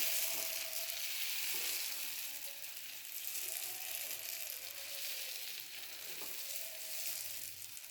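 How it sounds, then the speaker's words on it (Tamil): Thick adai batter made with tender pumpkin sizzles on a hot pan, a constant bright hiss with light crackle that holds steady throughout, no talking. "இப்போ அடையை ஊற்றுவோம்"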